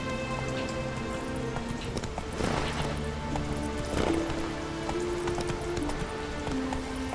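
Roach the horse in The Witcher 3 clip-clopping along at a steady trot, rhythmic hoofbeats under music and ambient game sound.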